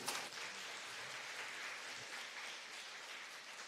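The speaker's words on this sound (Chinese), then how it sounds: "拍手鼓励。" Applause from a church congregation during a Sunday worship service, a steady wash of many hands clapping at moderate distance throughout, fairly faint and without speech.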